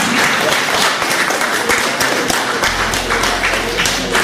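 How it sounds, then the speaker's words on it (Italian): A show audience claps loudly and continuously for a performer at a music and poetry evening, dense close applause with a few sharper individual claps. "Enzo Boffelli, un applauso"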